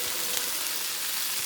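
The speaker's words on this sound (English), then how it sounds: "They're more fried than they are sauteed mushrooms." Mushrooms fry in a pan with a steady, close hiss and crackle of hot oil, a brief unbroken sizzle with no voices.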